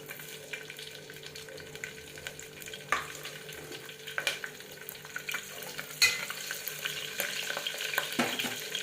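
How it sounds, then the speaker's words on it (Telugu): Cumin seeds and green chillies dropped into hot oil for a mutton gravy curry, giving a steady low sizzle with occasional sharper crackles and stirring clinks, fairly quiet and continuous, no talking. "జీలకర్ర వేసానండి నెక్స్ట్ మళ్ళీ పచ్చిమిర్చి వేస్తున్నామండి"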